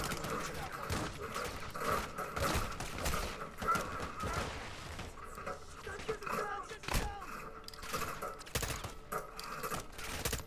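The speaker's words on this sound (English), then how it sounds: "I'm shooting one of my teammates." Gunfire in Call of Duty: Modern Warfare II, with repeated bursts and single shots cracking through a dense game soundscape, while a voice talks over the action.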